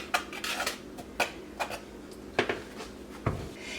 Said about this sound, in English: I'm just gonna whisk that together and set that aside